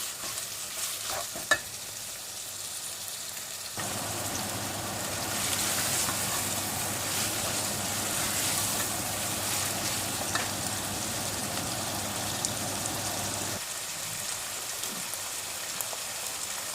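Chicken sizzles and fries in a pan while being stirred, with a loud, steady crackle and scraping that runs for most of the stretch and then drops back to a quieter sizzle; no talking.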